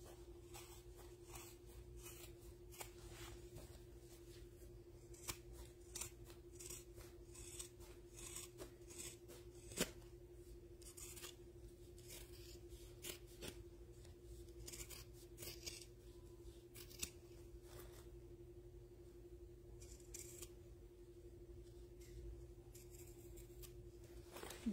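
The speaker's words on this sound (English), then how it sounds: "I like to trim the corners so that they poke out a little easier" Scissors snip repeatedly at the corners of a sewn fabric Boon wallet, a steady run of soft close cuts over a low background hum, with no talking.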